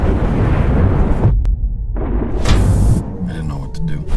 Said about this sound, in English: The explosion blasted open the hull.